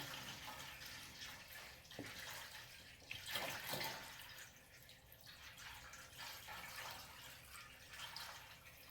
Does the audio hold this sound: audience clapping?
no